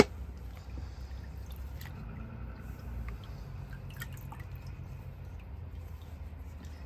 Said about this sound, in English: So now we're going to rinse that off.